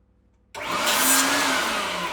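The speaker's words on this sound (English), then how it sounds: "move over to the cutting machine and just take that off the end" A cutting machine trims an inch off the tip end of a TaylorMade SIM2 driver shaft on a tour truck, starting abruptly as a loud, steady high-pitched whirring grind that holds for over a second and a half without talk.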